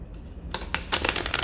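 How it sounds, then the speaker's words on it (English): A deck of card-stock cards being riffle shuffled, a close, rapid flurry of crisp flapping clicks that builds into denser bursts, with no talking. "I can riffle shuffle it easily"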